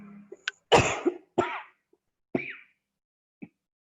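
Several harsh coughs and throat-clearing bursts, spaced irregularly, close and fairly loud with short silences between them.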